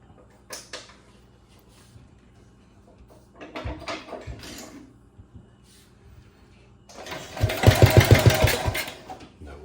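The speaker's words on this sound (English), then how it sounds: "Let's see if we can get this carburetor to get her to pop off without starting fluid." A Wheel Horse 702 garden tractor engine being cranked to start without starting fluid after carburetor work: short rattling cranking bursts, then a louder, rhythmic chugging turnover near the end, close and fairly loud.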